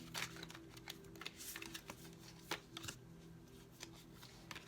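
Quiet, close-up riffling and snapping of playing cards being shuffled, in short repeated bursts over a low background hum.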